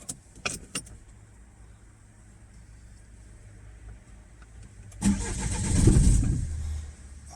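Keys jingle briefly, then a Peugeot 607 HDI diesel with a starting fault cranks and fires, running roughly for about two seconds before it cuts out. The engine is close and loud.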